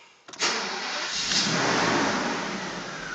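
A 1995 Mercedes S600 W140 with its 6-liter V12 cranks and catches, then settles into a steady, smooth hum that holds evenly to the end, close and fairly quiet.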